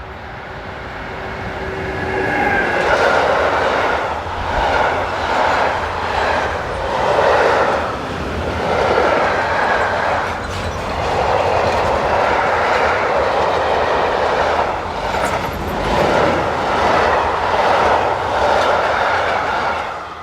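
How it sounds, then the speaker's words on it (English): DB Class 152 electric locomotive hauling a mixed freight train through Eichenberg station in Germany, heard as a steady, loud passing rumble with rhythmic wheel clatter over rail joints lasting throughout, no talk. "we see 152126 passing through Eichenberg with a mixed freight heading towards Bebra"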